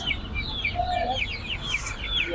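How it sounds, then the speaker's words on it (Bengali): Tiger-breed chicken chicks cheep in a quick, continuous chorus of high, thin peeps, many birds calling at once close by. "এগুলো কি মুরগির বাচ্চা ভাই এগুলো টাইগার মুরগির বাচ্চা"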